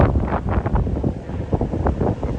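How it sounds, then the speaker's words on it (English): Strong wind buffets the microphone on a foggy beach by the ocean, a loud, steady roar with gusty surges and no speech. "Sorry for the wind."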